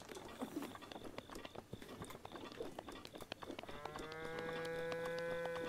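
Cows mooing in the video game Zelda Breath of the Wild, faint lowing over soft ambient patter and footsteps, with a long sustained moo rising clearly near the end.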